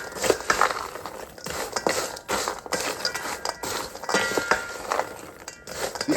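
Warm roasted pecans are tossed in a bowl to coat them in cinnamon seasoning, giving a continuous close rattle of light clinks and tumbling nuts with no talking.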